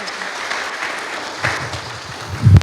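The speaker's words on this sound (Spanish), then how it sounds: "Recibamos con un aplauso de cariño a hermana Rosemary de González." A church congregation applauds to welcome a woman preacher to the pulpit at a Sunday service, with broad steady clapping that swells louder near the end.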